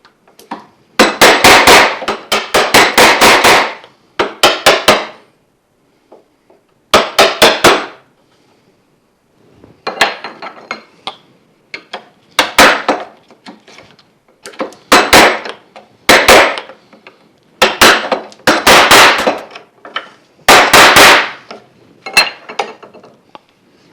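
A sharp chisel chops into wood for a half-blind dovetail joint in clusters of loud, rapid mallet strikes, separated by brief quiet gaps and continuing in repeated bursts.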